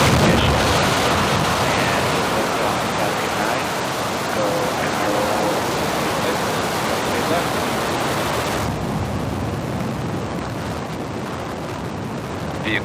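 A SpaceX Falcon 9 lifts off from SLC-4E at Vandenberg SFB, California, on the NROL-146 mission, a dense, continuous broadband roar that stays loud and steady throughout, thinning slightly in the last few seconds.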